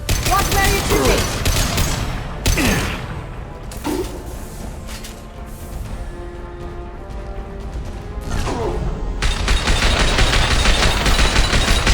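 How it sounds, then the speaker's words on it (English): Gunfire from a Mass Effect 2 firefight bursts loudly near the start, with scattered shots, crashes and a sustained barrage building toward the end, mixed with game voices and effects. "Watch where you're shooting!"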